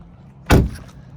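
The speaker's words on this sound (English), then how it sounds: "when you shut the door" A 2008 Jaguar XK X150 door is shut once, a single solid thump that closes close up and fades quickly into quiet.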